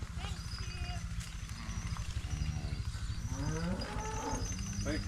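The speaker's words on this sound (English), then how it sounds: "Those are some pretty good cows." Cattle packed tightly into a pen on a ranch, mooing repeatedly and loudly at close range, with several overlapping calls over steady shuffling and a voice talking now and then.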